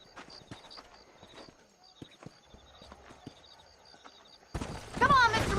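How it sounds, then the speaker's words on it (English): Horse hooves clip-clop in an uneven walking rhythm in the Red Dead Redemption game world, close and crisp against a quiet background, before a sudden burst of louder game noise with a voice at the end. "These are fine horses."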